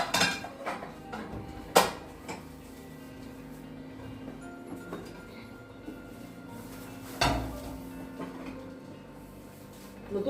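Ceramic plates clink and knock as they are taken out and handled one by one in a home, with several sharp clatters standing out over quieter rattling and rustling.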